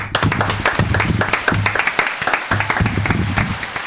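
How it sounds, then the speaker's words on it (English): A small group claps for a few seconds with fairly close, uneven applause, then it quickly fades. "Big round of applause for Ani, everybody."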